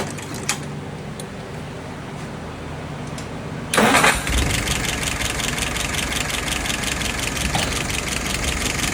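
A car engine cranks and catches after a quiet stretch, with a loud burst at startup. It then settles into a steady, even idle that runs to the end.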